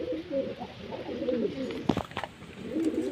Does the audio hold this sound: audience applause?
no